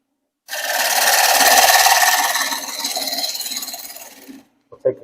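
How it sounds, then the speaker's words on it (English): A bowl gouge cuts across the edge of a wooden penny plate spinning on a lathe. It makes a loud, steady scraping hiss for about four seconds, then stops abruptly, followed by a couple of small knocks. "I'm just going to pick up the edge and make the cut all the way across."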